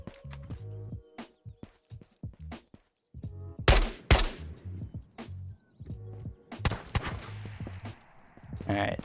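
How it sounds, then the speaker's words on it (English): In the Ghosts of Tabor video game, an SKS rifle fires a few sharp, separate cracks at a middling distance, with footsteps and people talking around them. "He's got an SKS, it sounds like."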